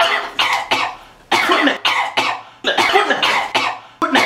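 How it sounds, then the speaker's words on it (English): A man coughing repeatedly at close range, a rapid series of harsh, loud bursts in irregular clusters with short pauses between. "stop coughing on my face"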